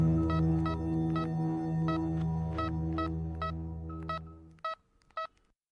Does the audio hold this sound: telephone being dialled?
yes